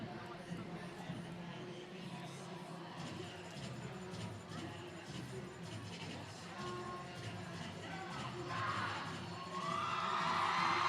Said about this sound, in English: The Malaysian crowd reacting to the Malaysians finishing their last-minute huddle